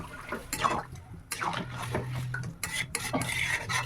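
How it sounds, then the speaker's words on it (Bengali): Water poured into a drumstick vegetable curry in a cooking pot and stirred, with metal utensil clinks, scraping against the pot and a sloshing liquid sound in uneven bursts, close and moderately loud. "এবার এর মধ্যে আমি দিয়ে দিচ্ছি জল"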